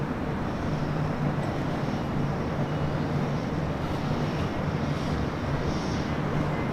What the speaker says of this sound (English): It's the Air Canada A321.